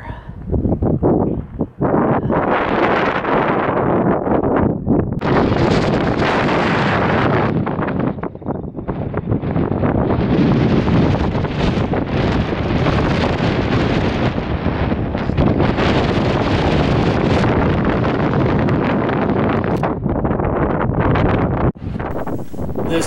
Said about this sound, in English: This wind sounds terrible, but it is June in the desert